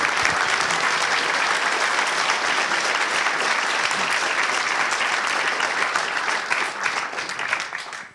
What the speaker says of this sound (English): can we get a round of applause for Chuck and Spike